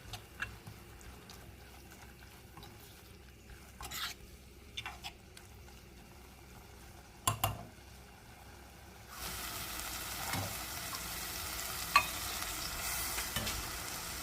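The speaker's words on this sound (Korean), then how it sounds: "기름을 덜어낸 참치 한 캔을 넣어주고 잘 볶아줍니다." Drained canned tuna is stir-fried in a pot for a soft tofu stew: a soft sizzle with scattered spoon knocks and scrapes early on, then a louder, brighter steady hiss for the remainder.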